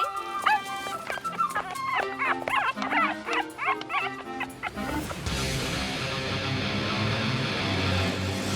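Puppies in an animated children's episode give a rapid run of high yips, barks and whimpers for several seconds before a broad, steady noise takes over.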